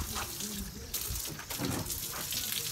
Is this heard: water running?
yes